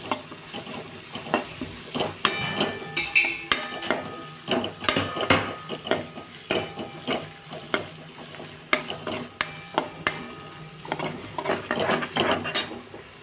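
Chopped onions sauté and stir in a pan while cooking toward golden brown for Kashmiri dum aloo, with steady frying sizzle and repeated close scraping and clinking of a spoon against the pan, no talk.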